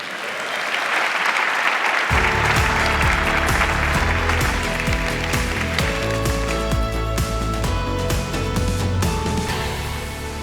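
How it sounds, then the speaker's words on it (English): Loud, sustained applause from an audience at a road safety awards ceremony, dense clapping that swells in abruptly and carries steadily to the end. "let's hear another round of applause for all of our heroes"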